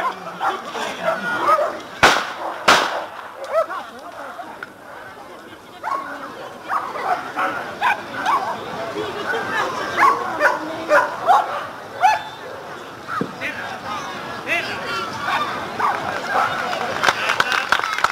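Dog barking and yipping during a dog training session outdoors, repeated excited barks and whimpers mixed with people talking and calling nearby.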